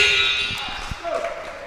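A buzzer at a high school basketball game in a gym sounds as one steady, loud, high tone, with crowd noise and voices underneath.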